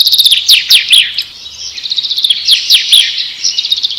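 Small birds chirp and tweet in quick, bright bursts, loud and close, with short pauses between clusters of calls and no voices.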